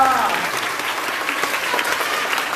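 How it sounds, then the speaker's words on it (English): Primary schoolchildren clap together at a school seminar, a dense, steady wash of applause that fills the room from start to finish with a near, lively texture. "Clap! Then everybody standing."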